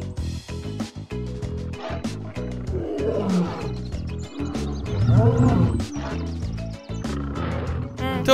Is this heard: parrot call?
no